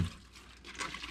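Water trickling and pouring for soaking collard greens in a kitchen, a soft, close dribble lasting about a second, fairly faint and steady with no talk over it.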